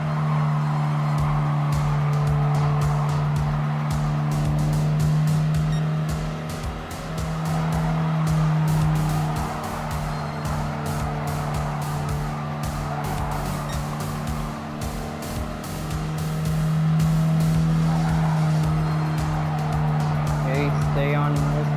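Race car engine droning steadily through laps in Gran Turismo Sport, a continuous loud tonal whine with shifting pitch and occasional tire noise, while a person talks over it.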